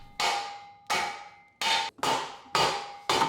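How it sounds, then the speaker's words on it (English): Six sharp, ringing hammer blows on metal of a car exhaust on a Katech LS7 engine, evenly spaced and close, each leaving a bright metallic ring that decays before the next strike. "we were ready to hit it hard again. Literally. Like with a hammer."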